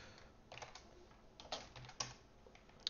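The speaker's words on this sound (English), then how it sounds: "come on, keyboard, work with me here." Soft, quiet tapping of keys on a computer keyboard, irregular keystrokes with a few sharper clicks, no voices.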